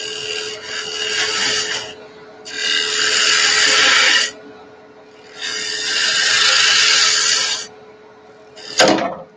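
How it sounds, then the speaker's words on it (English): Sandpaper rubs against a wood-turned handle spinning on a lathe, making three long rasping strokes of a few seconds each over a steady motor hum, followed by a short sharp knock. "Then I'll hit it with sandpaper"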